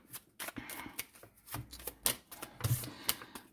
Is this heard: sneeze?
no